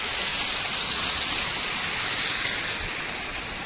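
Water rushes steadily over a village check dam (bandhara) holding back a large volume of water, a close, continuous roaring wash with an even level throughout and no voices.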